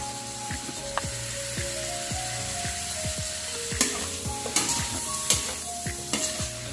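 Pork belly fries in a little oil, its fat rendering out with a continuous close sizzle and crackle, overlaid by repeated sliding tonal squeaks and a few sharper pops later on, no talking.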